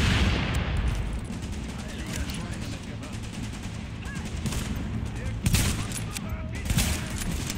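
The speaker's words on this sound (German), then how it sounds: "der da drüben wird gerade von dem Maschinengewehr bearbeitet" Sustained machine gun fire in Tom Clancy's The Division rattles continuously in dense, rapid bursts with a few sharper reports, heard at moderate distance amid busy combat noise.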